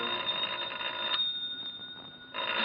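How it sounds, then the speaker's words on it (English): An old-fashioned telephone bell rings in a classic suspense radio drama, a steady bright ring that pauses and starts again, fairly loud and alone with no voices. "It's not the door, it's the phone."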